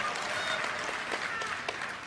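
An audience at a Blizzard 25th anniversary panel applauds in a steady, dense patter of clapping that holds through the whole stretch, with a few sharper claps standing out.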